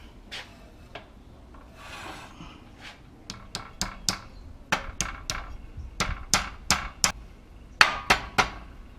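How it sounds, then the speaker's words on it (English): A small hammer taps a wheel bearing race into place on a Toyota Camry in a series of sharp, clear metallic knocks, sparse at first and then quicker and steadier, close by with no talking. "just get a little hammer and just kind of tap it in"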